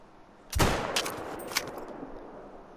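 A single loud 22-250 rifle shot in a deer-hunting video game, a sharp crack at about half a second that rings out and decays, followed by a fainter secondary report, with no voices.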